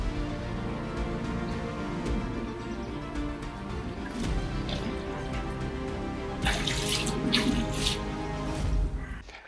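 Water running steadily from a shower at a lakeside carp-fishing spot, with a continuous spray and a brighter, harder burst of splashing toward the end, and a few faint sounds under it.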